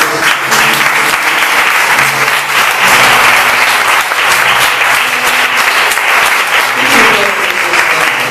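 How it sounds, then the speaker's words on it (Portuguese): A church congregation gives loud, sustained applause during a sermon, many hands clapping densely and evenly close by, with faint low music or voices murmuring underneath throughout. "Dá uma salva de palmas"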